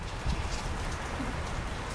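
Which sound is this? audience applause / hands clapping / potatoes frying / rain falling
rain falling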